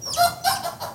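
A rooster crows at dawn: one short, close, strained crow lasting about a second, with no talk over it.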